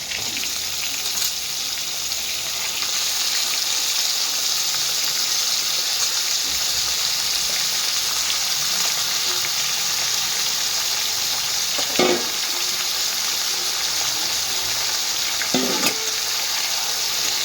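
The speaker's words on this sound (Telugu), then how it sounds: "బాగా వేగిన తర్వాత మనం ముందుగా కడిగి పెట్టుకున్న చికెన్ని ఇందులో వేసుకోవాలి." Washed chicken pieces fry in hot oil for a chicken fry biryani, giving a loud, steady, continuous sizzling hiss close by, with a couple of brief utensil clinks near the end.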